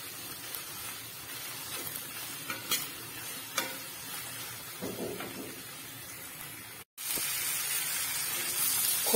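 Grated coconut roasting with tomato in a pan for a soya chunks curry while a spoon stirs it, giving scattered scraping taps over a soft fry, then a loud, continuous hiss near the end.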